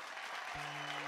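Applause at an award ceremony, a quiet, even wash of clapping from a crowd. A steady low hum enters partway through, and nobody speaks.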